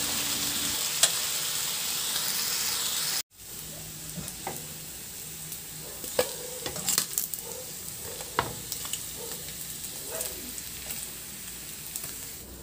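Pork chops sizzle and fry in a hot pan, a steady loud crackle for the first three seconds, then quieter scattered spitting and popping with occasional stirring clinks.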